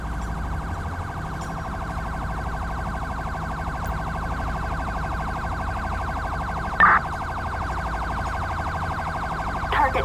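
A steady ambulance siren wails continuously and loudly in Grand Theft Auto V, holding an unbroken tone for the whole stretch with a couple of brief clicks over it.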